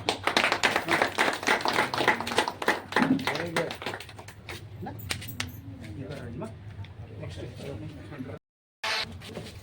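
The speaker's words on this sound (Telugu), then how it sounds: "గట్టి చప్పట్లతో" Loud audience applause for municipal workers at a gathering in Kadapa city, a sustained run of hand claps that gradually fades over several seconds, with a brief dropout near the end and voices mixed in.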